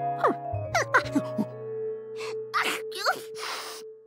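Several cartoon sneezes and gasping breaths come in quick succession over a steady background tone, ending with breathy, hissing bursts.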